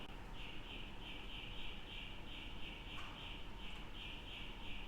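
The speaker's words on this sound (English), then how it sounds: "There's a really noisy bird outside." A noisy bird calls continuously outside during cooking in a steady, repeating high-pitched pattern, faint and somewhat distant over a low background hum.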